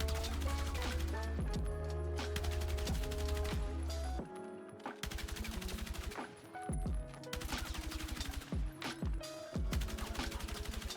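M277 rifle with a red dot sight firing in the video game Battlefield 6, loud rapid automatic bursts with a short pause near the middle, continuous and close.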